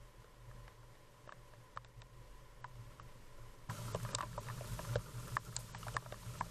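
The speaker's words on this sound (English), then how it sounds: "And we had rain." Soft rain patters steadily in the background, growing noticeably heavier partway through, with scattered drips and taps standing out.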